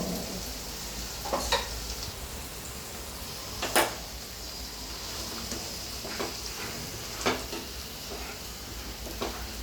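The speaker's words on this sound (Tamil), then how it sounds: "இது நல்லா ஒரு 10 நிமிஷம் நல்லா கொதிக்கணும்." Low, even bubbling and sizzle from a tomato, tamarind and coconut curry paste simmering in a pan, broken by occasional soft clinks and scrapes.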